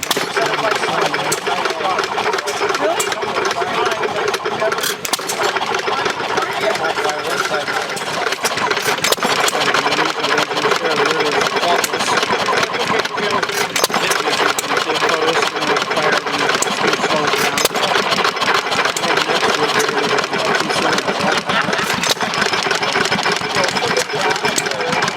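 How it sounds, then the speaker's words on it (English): A great big old Atlas Imperial industrial engine of the kind used in tugboats runs steadily at a vintage engine show, a continuous mid-pitched mechanical drone close by with someone talking over it. "This engine here is a great big old industrial engine. It's an Atlas Imperial."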